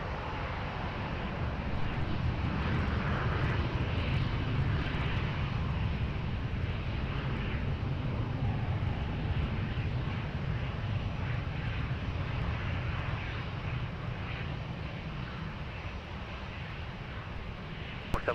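Fixed-wing airliner roars down runway 20 at Lisbon Airport on its takeoff roll, a loud continuous engine rumble holding steady for many seconds before easing slightly.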